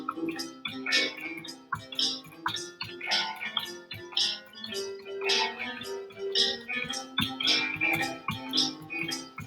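Boogie woogie reduced bass line on piano, a steady rolling pattern of repeated low notes played in time with a backing track, moderately quiet and without talk.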